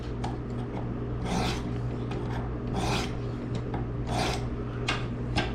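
A knife is drawn across a Worksharp precision sharpener in several rhythmic rasping strokes, close and distinct, with short pauses between each scrape.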